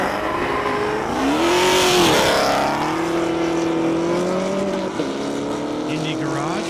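A Dodge Hellcat drag car roars as it accelerates down an airport airstrip, its engine note climbing loud and steady through the run, with an announcer talking over it.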